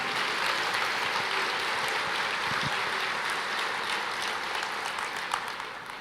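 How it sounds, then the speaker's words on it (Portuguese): Congregation in a church service applauding, a broad steady roar of many hands clapping throughout, fairly loud and unbroken, fading slightly toward the end. "Pode aplaudir ao Senhor."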